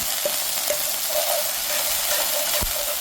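Green onions crackle and hiss as they are stir-fried in hot oil, with a few soft scraping stirs of a utensil against the pan.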